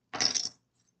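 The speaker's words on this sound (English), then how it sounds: "So shuffling poker chips is my new thing." A single quick clatter of poker chips being shuffled in one hand, a crisp half-second burst of clicking clay-like discs, close and alone in a quiet room.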